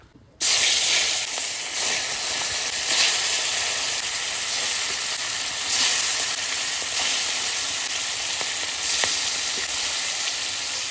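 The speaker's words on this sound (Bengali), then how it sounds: "আমার তেল গরম হয়ে গেছে, এবার মাছটা দিয়ে দেবো।" Hilsa fish sizzling and spitting in hot oil in a wok, a loud, steady frying hiss that bursts in abruptly and holds for the whole stretch with small crackling pops throughout.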